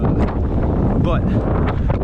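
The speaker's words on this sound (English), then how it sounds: "It's very windy out here." Strong, frigid wind buffets the microphone with steady low rumbling, and a voice talks intermittently over the gusts.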